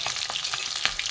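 Pieces of turmeric-and-salt-rubbed katla fish sizzle and crackle steadily in hot oil in a pan after being flipped, with a brief sharper spatter near the end; no voices.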